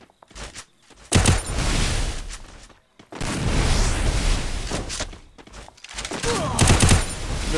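Rapid bursts of automatic gunfire from a shooter video game come in long, loud volleys, broken by short pauses, with close, dense crackling throughout.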